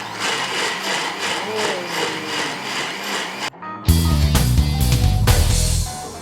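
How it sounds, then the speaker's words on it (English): An electric blender on an auto menu setting grinds dried shrimp for Singapore laksa. First comes a rough rattling whir, then after a short silence a much louder, steady, low motor roar that fills the rest of the clip. "So now I'm going to blend the dried shrimp using the same auto menu tool"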